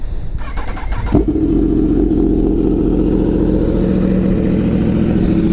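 A Yamaha R1 sportbike cranks and fires up from cold, then settles into a loud, rough, steady idle close by; no talking is heard.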